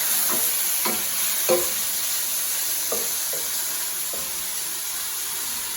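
Mushrooms browning in a pan give a steady soft sizzle, with a few brief stirring clicks near the start and then an even hiss.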